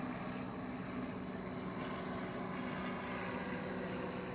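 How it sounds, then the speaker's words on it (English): A propeller plane flying overhead gives a faint, steady engine drone that stays even throughout against a quiet evening outdoor background. "It's a prop plane."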